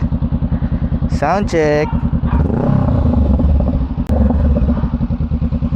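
A Honda Rebel 500 fitted with a new aftermarket exhaust in place of the stock pipe idles with a loud, even pulsing thump, then revs up briefly and drops back to idle. A voice speaks briefly over the engine.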